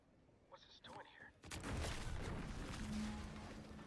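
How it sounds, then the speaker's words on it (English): A loud explosion in the video game The Outer Worlds 2 bursts out abruptly after a short quieter stretch, followed by a sustained rumbling roar, with faint voice-like sounds before it. "An explosion?"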